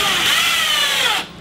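A power drill runs steadily for just over a second, driving a 3-inch outdoor wood screw into wood for a hexagonal solar parabolic mirror mount, then cuts off abruptly.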